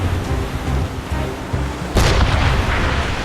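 Naval cannons boom from a sailing warship in Assassin's Creed Rogue, with a rumbling, thundery volley of heavy shots. A loud burst near the midpoint is followed by sustained booming and crackling.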